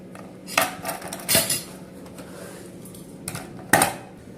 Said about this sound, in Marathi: आता आपण मिरच्या कापून घ्यात.